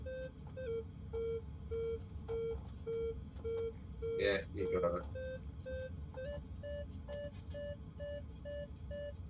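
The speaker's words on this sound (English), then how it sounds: "So nice to hear the beeping again." A glider's variometer in Microsoft Flight Simulator 2020 beeps in short repeated electronic tones that climb in pitch as lift builds, with people chatting over it during an online glider race.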